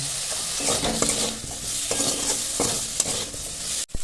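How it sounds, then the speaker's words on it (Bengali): Tomatoes sprinkled with black pepper fry in butter in a pan while garlic chicken is cooked, making a continuous close sizzle broken by repeated stirring scrapes. "একসাথে টমেটোর সাথে একটু ভাজা করে নেব।"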